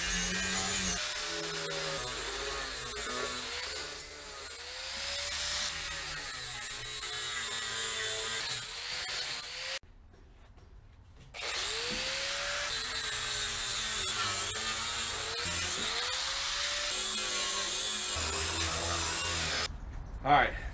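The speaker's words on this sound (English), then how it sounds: "I'm going to grind up the rest of it and see how it feels all the way around." Steady, close power-tool grinding on the steel firewall of a 1969 C10 truck, a continuous high whine with shifting pitch, a short pause midway, then grinding resumes; faint speech sits under it.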